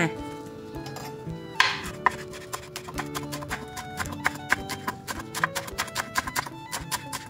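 Rapid, crisp knife chops through wild betel leaves on a cutting board, near and steady, in a quick irregular rhythm with no talking.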